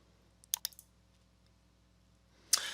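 A couple of quick, quiet computer mouse clicks pressing a button in Word 365 software, followed after a pause by a sharper click-like noise, with a faint electrical hum underneath and no talking.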